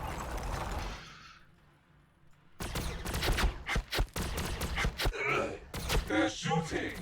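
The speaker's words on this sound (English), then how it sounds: "They're shooting at me." Rapid gunfire in Warhammer 40000 Battlesector crackles in dense bursts after a quiet pause, sharp repeated shots stacking close together, with a voice speaking faintly at the start.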